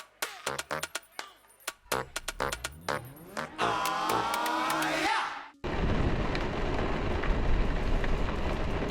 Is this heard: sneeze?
no